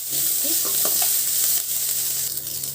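Dried red chillies, coriander seeds, cumin and curry leaves sizzling in hot oil for a chutney, a loud constant frying hiss close up with light stirring clicks.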